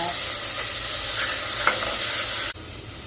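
Small shallots sizzle steadily in hot oil in a pan. The hiss is continuous and close and drops abruptly near the end, with a brief stir partway through.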